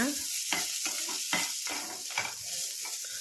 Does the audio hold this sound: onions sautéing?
yes